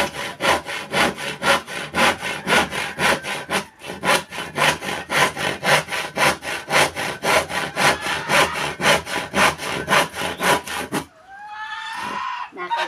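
A hand saw cuts through a wooden stick with steady, rapid back-and-forth rasping strokes, close and loud for about eleven seconds, after which a voice speaks over a quieter background.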